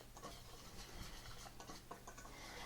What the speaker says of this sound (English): So I'm going to whisk everything together